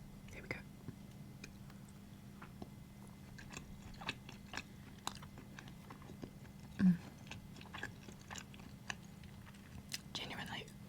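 Soft, close chewing and crunching of food during an ASMR tea-party mukbang, with quiet intermittent bites over a low hum and faint whispery speech.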